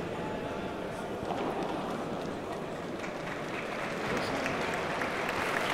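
Crowd applause at a professional padel match, a steady dense wash of clapping that runs without a break and swells slightly toward the end.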